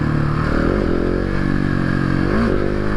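A motorcycle engine close by, blipped on the throttle by a rider learning wheelies, its pitch rising and falling in short revs over a steady loud idle.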